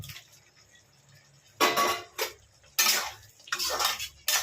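Pieces of pointed gourd drop into a pot of partly boiled rice, giving a few sharp clattering bursts of metal and cookware contact separated by brief quiet gaps, close and fairly loud.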